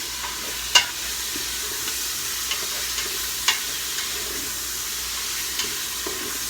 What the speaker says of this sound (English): Basically all we're doing here is searing the meat.